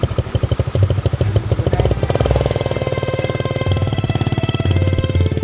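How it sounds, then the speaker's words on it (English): Motorbikes loaded with large baskets rumble past on a street in Indonesia, a close, loud putter with rapid pulsing beats that swells and eases as they pass, with no talk over it. "They carry like the biggest baskets on their motorbikes."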